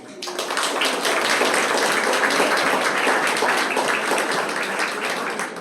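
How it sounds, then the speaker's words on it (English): Loud, dense applause from an audience at a Korean cultural event honoring guest speakers, a continuous roar of many hands that stays full and even from start to finish. "A big applause for all of them, please"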